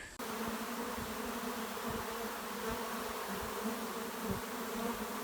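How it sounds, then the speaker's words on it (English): A dense, steady buzzing of a honey bee swarm fills the air, continuous and fairly loud, with no voices. "all those bees started going up to the top of the box"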